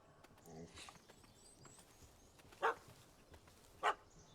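Two short, sharp dog barks from a puppy chasing a cat in The Witcher 3, spaced about a second apart against quiet ambient game background, with soft clatter and hoof-like thuds earlier.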